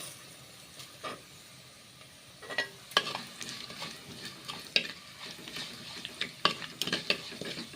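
Fenugreek seeds splutter and pop in hot oil in a pan for a village-style kuzhambu, with crisp, irregular crackles and a soft sizzle underneath, fairly quiet and close with no talking.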